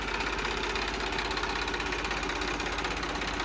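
An Eicher 380 diesel tractor engine idles nearby, a constant low rumble with a fast, even knocking throb that never changes.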